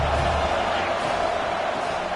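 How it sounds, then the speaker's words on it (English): Stadium crowd noise at a college football game in a video game, a broad sustained roar of many voices building to spur the defense near the goal line, heavy and continuous throughout. "This crowd is trying to inspire this defense to make a big red zone stop."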